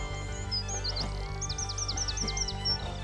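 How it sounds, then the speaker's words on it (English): Birds singing by a forest path near Loch Avich in North Argyll, Scotland: bright repeated chirping phrases in quick series over a steady low background rumble, fairly close and clear. "Hear the birds singing."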